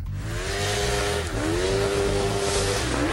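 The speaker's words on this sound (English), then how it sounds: "A Honda CBR 900 RR-powered go-kart put together by the guys over at J&D Fabrications." A go-kart powered by a Honda CBR 900 RR motorcycle engine screams past at high revs. The engine note climbs, dips briefly at a shift, then climbs again, with a faint hint of tire noise.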